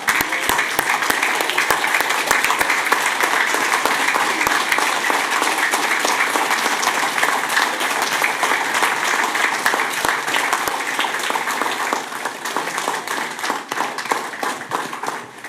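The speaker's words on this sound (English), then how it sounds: "Can we all stand and give them a round of applause?" Sustained audience applause at a city commission meeting, dense steady clapping from a standing crowd that fills the room for about fifteen seconds before tapering slightly at the end.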